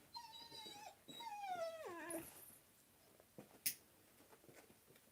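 A dog whimpers and lets out rising, wavering howls and whines up close, followed by quieter snuffling and a brief sharp yip, with no talking.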